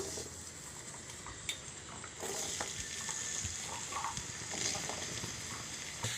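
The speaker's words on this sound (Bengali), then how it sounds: "গরম তেলের মধ্যে আলুগুলো ভেজে নেব" Potatoes sizzle and crackle steadily in hot oil, a continuous frying hiss with occasional pops and soft stirring.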